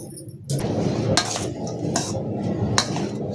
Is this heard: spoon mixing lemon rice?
yes